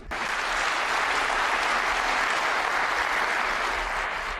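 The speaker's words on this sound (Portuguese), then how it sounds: "Aliás, vocês mesmos se aplaudiram." An audience at a speech bursts into applause, a dense, even wash of clapping that starts abruptly and holds steady throughout.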